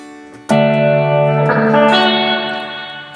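A 1995 Peavey Valverb three-tube reverb and tremolo processor, serviced, with reverb at full, turns a loud sustained guitar chord into a thick, ringing wash that swells and lingers steadily without fading out.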